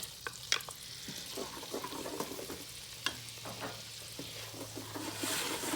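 Flour cooks with butter in a pan for a roux for Alfredo mac and cheese, giving a faint, soft sizzle with scattered clicks and scrapes of stirring, fairly quiet and close.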